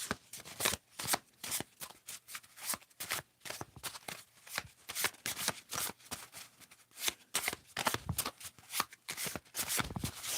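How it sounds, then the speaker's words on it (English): Close, crisp riffling and flapping of a deck of oracle cards being shuffled by hand, in quick repeated bursts separated by brief pauses, quiet and intimate. "Nice shuffling sounds."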